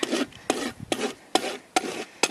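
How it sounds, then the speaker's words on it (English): A farrier's rasp files flare off a horse's hoof toe in six rhythmic, close rasping strokes, evenly spaced and loud against a quiet background. "So I'll take my rasp and I will rasp that flare off."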